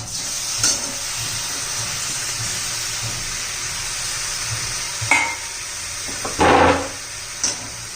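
Finely chopped fresh spinach sizzles loudly in hot oil on a high flame, a steady frying hiss with a few sharper bursts of spitting and stirring, close and alone.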